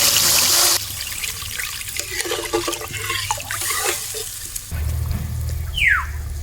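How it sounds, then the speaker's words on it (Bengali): Water is poured into a pan to make the gravy for a snakehead fish curry, a loud splashing rush at first that settles into a softer trickle and gurgle, with no talking. "এবারে ঝোলের জন্য জল দিয়ে দেবো।"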